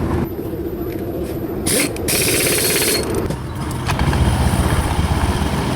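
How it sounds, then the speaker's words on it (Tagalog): A Honda Beat scooter engine runs steadily with a slight rattle from the belt, a close, fairly loud buzzing hum with a brief hissing burst partway through. "Ning hilom gyud ang tingog. Nya makadungog tag lagatak gamay tungod sa belt, mulabiyog ang belt."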